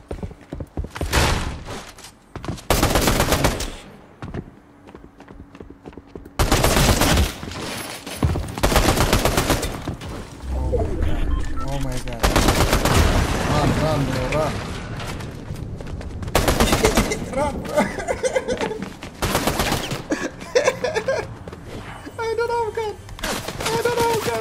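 Gunfire bursts in the Fortnite video game, loud rapid shots in repeated clusters mixed with game sounds, with someone talking over much of it.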